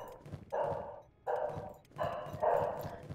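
Repeated dog barks in the video game Kenshi, four loud evenly spaced bursts heard alone.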